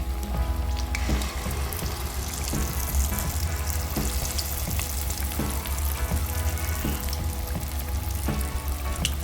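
Wheat flour appam batter sizzles and fries steadily in a hot pan, a continuous loud crackling hiss with soft periodic ticks and scrapes, no voices.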